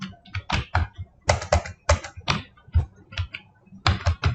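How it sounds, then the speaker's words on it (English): Someone typing a web address into a browser on a computer keyboard, nearby: short clustered bursts of clicky keystrokes separated by brief pauses, ending in a final cluster. "Type e-Raktkosh and press enter."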